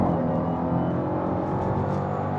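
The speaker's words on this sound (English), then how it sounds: "You can hear that supercharger whine." Dodge Durango SRT Hellcat engine with supercharger, a steady close drone of engine and whine held throughout with no clear shift breaks.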